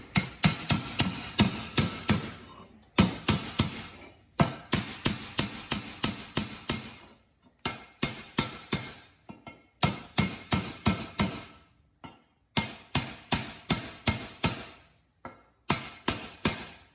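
Steady hammer blows ring out in quick bursts of five or six strikes, separated by short pauses, close and loud with no talking.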